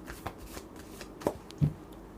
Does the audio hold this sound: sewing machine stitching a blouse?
no